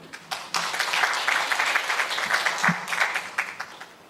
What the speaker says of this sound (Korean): 여러분 박수로 발제를 청해 주시면 좋겠습니다.